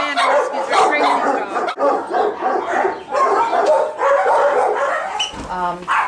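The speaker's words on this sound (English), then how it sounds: "So all the dogs here, these are both Amanda rescues" Rescue dogs at an animal foundation bark and yip repeatedly in loud, overlapping bursts close by, with some whimpering mixed in.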